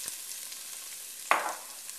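Celery, peppers and onion sauté in hot oil as a soft steady hiss, broken by one brighter burst of sizzling and scraping midway, close and fairly quiet with no talking.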